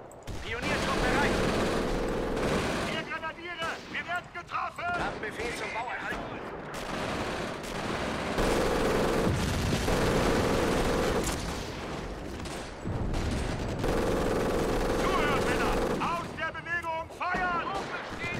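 Sustained infantry gunfire and bursts of fusillade from a Company of Heroes trench-defense battle, loud and continuous with dense overlapping shots and booms over a rumbling battlefield bed.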